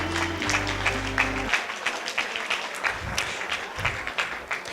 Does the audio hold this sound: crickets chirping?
no